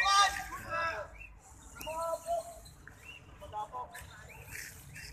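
Trained pet birds chirp and whistle in short bright bursts and trills, some sharp and close, others softer, over a quiet background.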